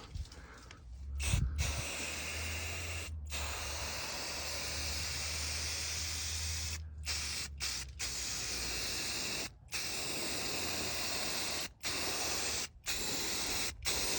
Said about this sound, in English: And I just have this spray on exterior lacquer.